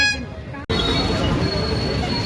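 A toy trumpet gives a short, bright toot at a crowded outdoor fair, then cuts off abruptly into a steady wash of crowd and street noise.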